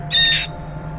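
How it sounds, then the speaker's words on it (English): A parrot lets out a single shrill, high-pitched scream, loud and close, lasting well under half a second over a faint low hum. "Look at the screams, the high-pitched screams."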